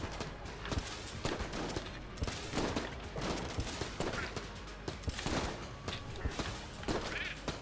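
Enemy turrets in the video game Enter the Gungeon fire rapid, overlapping volleys of shots, a busy stream of quick pops and thuds with a voice faintly underneath.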